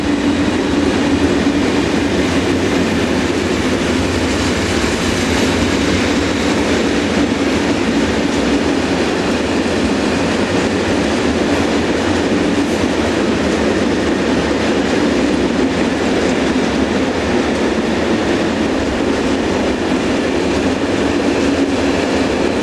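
A Swiss Class 620 Re6/6 electric locomotive hauls a train along the Gotthard route, a loud, steady rumble of wheels and carriages rolling past without a break, with no voices.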